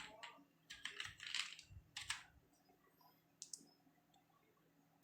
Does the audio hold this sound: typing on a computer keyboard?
yes